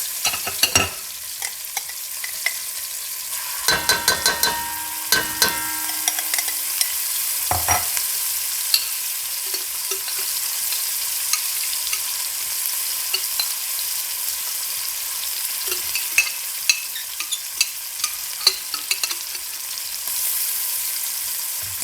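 Spices stirred into rice with lima beans frying in a pan: a steady close sizzle throughout, with frequent sharp scrapes and clicks of the spoon against the pan and no voices.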